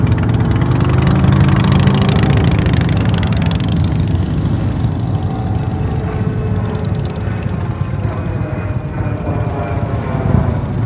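A motorcycle engine hums at a steady, high throttle during slow-speed riding practice, a continuous loud drone with a slight rise and fall and no pauses.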